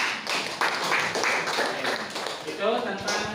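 Students in a classroom lesson clap their hands in a busy, uneven burst, mixed with voices talking and calling out throughout.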